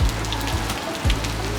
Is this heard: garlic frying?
no